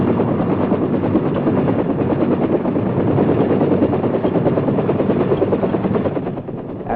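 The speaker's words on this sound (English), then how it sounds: "the chopper is moved to a different part of the field where the rocket pods are armed" A Vietnam-era Huey helicopter taxis across an airfield, its rotor thumping in a loud, rapid, continuous chop close by, with steady turbine roar underneath and no voices.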